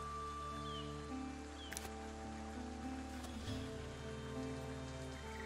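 Soft, steady rain patters in the medieval city-builder game Foundation, quiet and continuous beside wheat fields. Sustained game music tones and faint ambient sounds play under it.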